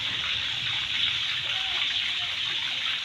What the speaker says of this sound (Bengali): এই যে দেখছেন সাধারণ পানিটা আমরা এখন মিক্সার করছি সুন্দরভাবে মিক্সার করে নেবেন এবং জাকিয়ে নেবেন